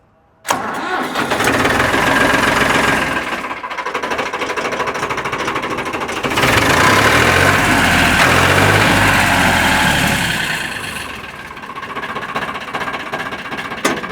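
A Farmtrac tractor engine cranks and catches, then settles into a loud, steady diesel idle with a brief surge partway through and no talking.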